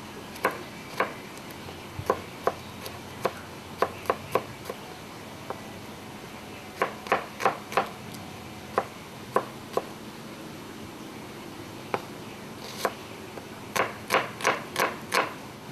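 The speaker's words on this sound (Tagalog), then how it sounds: "maghihiwa po tayo ng bawang at sibuyas na panggisa" A knife chops garlic and onion on a board in sharp, irregular knocks, some single and some in quick bursts of three or four, against a quiet background.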